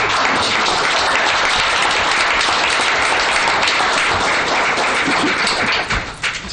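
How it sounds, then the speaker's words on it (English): A township council meeting audience bursts into sustained, loud, dense applause for volunteers, clapping filling the room evenly before tapering off at the end. "please stand so we can give you a round of applause"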